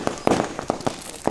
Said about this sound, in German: Jetzt geht's weiter mit dem riesen China Böller D.